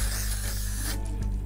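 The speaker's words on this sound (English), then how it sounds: "This is the Techniblock SPF 40 sun protection, water resistant, 9PC clear spray." Techniblock SPF 40 water-resistant clear sunscreen spray hissing from the can in one continuous close, loud burst that stops abruptly near the end.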